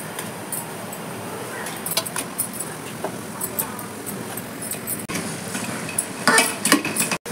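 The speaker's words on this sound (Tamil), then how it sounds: "இப்போ பொறிச்சு வந்து வர பிரெட்டை இதோட நம்ம சேர்க்கலாம்." Fried bread pieces are added to sugar syrup and stirred in a pan for bread halwa, with a spoon scraping and clinking against the metal in a steady rhythm while a person talks.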